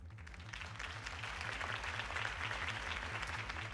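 Crowd applause at a campaign rally for Harvey Dent in Batman: The Telltale Series, a broad, steady wash of clapping at moderate distance over a low pulsing music bed.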